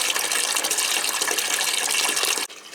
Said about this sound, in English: we'll run some RO water off. Fill this about half, just over half full